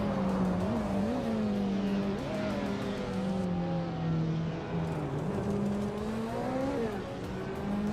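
Video game race cars, including a 2003 Ferrari 575 M Maranello, launch off the line as a sustained engine drone rises and dips in pitch through gear changes, with a faint tire squeal.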